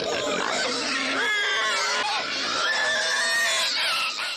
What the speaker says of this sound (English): Which is where these rather enthusiastic pigs come in.